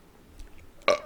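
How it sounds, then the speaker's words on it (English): A single short, loud, throaty burp right near the microphone at the very end, after a quiet stretch of faint room noise. "I'm about to burp again"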